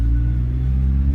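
A 1988 Honda Civic wagon with a worn clutch throwout bearing runs with a steady, loud low engine rumble and a faint whining hum, close up and without talk.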